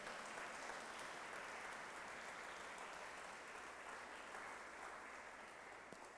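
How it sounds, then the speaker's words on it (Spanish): Steady congregation applause during a church sermon, dense and sustained throughout, with no voices standing out over the clapping. "denle el aplauso al Señor"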